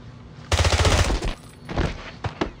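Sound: gunfire in the video game James Bond 007 Blood Stone

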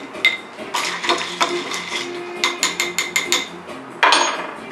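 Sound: stirring orange cocktails with ice

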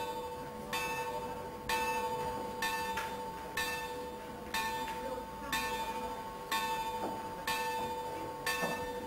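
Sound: chapel bell rung by the prior

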